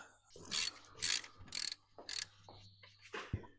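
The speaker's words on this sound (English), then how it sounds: "Next is to just take off these casing bolts here." A hand ratchet takes casing bolts off a bicycle, with several short bursts of rapid clicking and pauses between them, close and fairly quiet.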